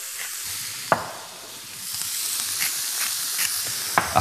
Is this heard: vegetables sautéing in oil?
yes